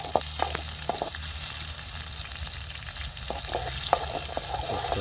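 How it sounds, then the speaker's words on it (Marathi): Tomatoes frying in oil in a pan as a fish dish begins, a steady faint sizzle broken by scattered sharp spatters and scrapes of stirring. "पहिलं तांबाटी आणि तेल टाकून घेतलेलं आहे."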